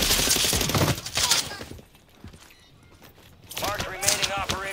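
Rapid bursts of gunfire from a first-person shooter game, loud and dense at the start, dropping to quieter scattered shots in the middle, then rising again to heavy firing with game sounds and voices over it.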